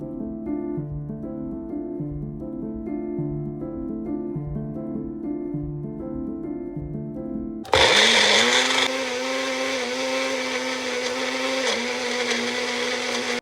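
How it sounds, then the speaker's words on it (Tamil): Blender pureeing tomato for mutton gravy switches on abruptly partway through, a loud steady whirring motor roar that runs without a break to the end, following a stretch of soft background music. "நெக்ஸ்ட்டு பார்த்திங்கன்னா டொமேட்டோ வந்து ப்யூரி பண்ணி எடுத்துக்கலாம்."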